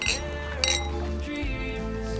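Wine glasses filled with red Bordeaux clink in a toast: two bright, quick chinks close together near the start, then a quieter room.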